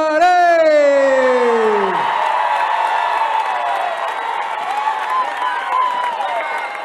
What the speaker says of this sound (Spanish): El aplauso grande para recibir a los de